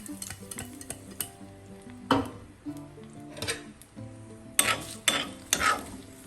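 A spoon scrapes and stirs fried mustard seeds and shallots into pineapple pachadi in a pan beside a faint sizzle, with several sharper knocks against the metal. Quiet music plays in the background.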